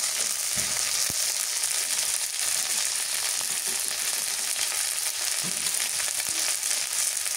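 Green chili paste frying in hot, foaming oil, with a bright, continuous sizzle and crackle, close and steady, plus occasional stirring taps.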